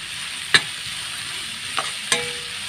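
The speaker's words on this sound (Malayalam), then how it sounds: "ഇനി ഇത് നന്നായിട്ടൊന്ന് വഴറ്റിയെടുക്കാം" Green chilies and coconut pieces sauté in a pan with onions and shallots for chicken curry, giving a steady sizzling hiss broken by three sharp scrapes of the stirring spoon.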